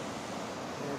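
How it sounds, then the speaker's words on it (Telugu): Water pours continuously at the small Jonnavalasa Sapta waterfall in Vizianagaram, swollen by cyclone rain, a loud unbroken rushing roar close by with no voices. "వాటర్ ఫ్లో ఇలా ఉంది చూడండి"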